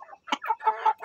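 A young yellow-legged rooster, a future breeder stag, gives a mature-sounding crow broken into several short bursts, close and clear with no talk over it.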